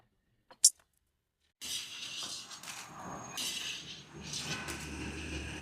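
Roasted chana dal is tipped from a hot pan onto a plate, with a brief metallic clink followed by a steady, close rattling and scraping of dry lentils and utensil against the plate.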